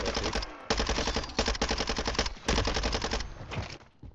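Rapid automatic gunfire in a Call of Duty: Warzone gunfight, in several bursts of tight, rhythmic shots separated by short pauses, close and loud with no talking over it.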